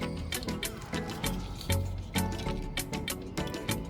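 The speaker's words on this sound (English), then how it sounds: "I'm probably gonna add some more water to it" Water splashes and glugs into a cooking pot of curry goat outdoors in uneven bursts, with clanks and sloshing from close by.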